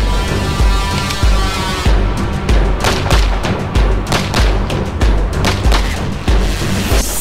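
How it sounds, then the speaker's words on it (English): Rifle gunfire at a Spetsnaz selection shooting test: loud, close shots crack in a steady, regular rhythm roughly every half second, with a continuous roar of other firing underneath. "even though you're exhausted, you still have to be able to fire your weapon with accuracy."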